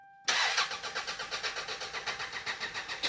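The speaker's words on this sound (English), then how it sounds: "he's going to turn it over. And I want you guys to listen." A 1991 Toyota Celica engine cranks without catching, a loud rhythmic whirring chug that repeats steadily for about three seconds after a sudden start.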